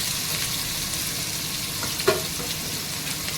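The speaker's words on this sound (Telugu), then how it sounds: "ఈ ఆనియన్స్ మంచిగా రెడ్ కలర్ వచ్చేంత వరకు ఫ్రై చేసుకుందాం ఆయిల్లో" Chopped onions and green chillies frying in hot oil, a dense, steady sizzle close up, with one brief clink or stir partway through.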